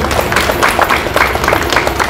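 Steady crowd applause at a temple aarti ceremony, dense rhythmic clapping from many hands that holds evenly throughout, close and fairly loud.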